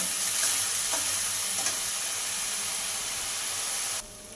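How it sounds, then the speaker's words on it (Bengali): Two medium onions and green chilli paste sizzle steadily in hot oil in a pan, a loud, close, even crackling hiss that drops off suddenly at the end. "এবার এই তেলের মধ্যে দিয়ে দেব দুটো মাঝারি সাইজের পেঁয়াজ ও চার থেকে পাঁচটা কাঁচা লঙ্কা বাটা দিয়ে পেঁয়াজটা ভালো করে তেলের সঙ্গে কষিয়ে নেব"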